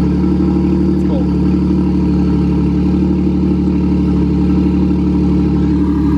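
A Nissan 370Z engine runs at a steady idle without revving, a loud, even rumble close to the microphone for the whole stretch.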